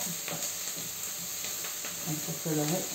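Onions cooking in a pan for a homemade tartiflette, a soft steady sizzle and hiss under someone talking close by.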